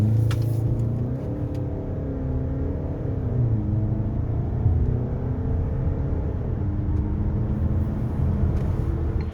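A 2024 Škoda Kodiaq 2.0 TDI DSG 4x4 diesel accelerating hard from standstill toward 100 km/h, engine note rising through gears with audible shift dips, a loud steady in-cabin drone throughout.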